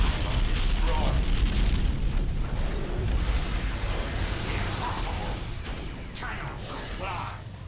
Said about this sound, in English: We need to get away from that thing. Because it's gonna explode.